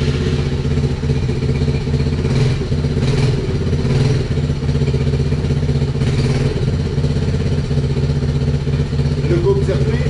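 Quad BigFoot 110cc ATV engine started cold with its battery wired directly, running as a steady, fairly loud low mechanical drone throughout with faint clatter, while a person talks over it.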